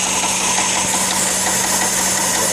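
A 1995 Corvette C4 V8 engine runs with a knocking fault, giving a loud, steady mechanical drone and hum with faint repeated ticking under it and no voices.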